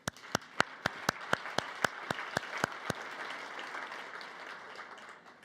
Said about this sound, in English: So give yourselves a round of applause because you raised some of these children.